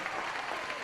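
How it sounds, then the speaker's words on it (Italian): Applause fills a swimming venue for the winner of a men's 200 m individual medley final, a brief, steady wash of distant clapping at moderate volume. "a lui gli applausi per la vittoria, Dylan Buonaguro"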